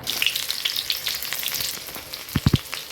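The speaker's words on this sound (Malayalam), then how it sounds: "ഇത് എണ്ണ ചൂടായി വന്നിട്ടുണ്ട് ഇനി ചെറിയ ഉള്ളി ഇട്ട് കൊടുക്കാം" Small onions drop into hot oil as tempering for tapioca, giving a bright, close crackling sizzle with a few sharp spatters and pops near the end, with no talk.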